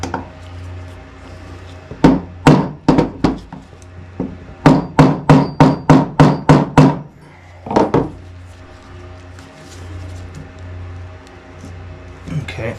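A Phillips screwdriver struck repeatedly with a hammer like an impact driver while restoring a Diana model 34 air rifle: sharp metallic-wooden blows, a few spaced hits then a quick run of about nine, loud and close.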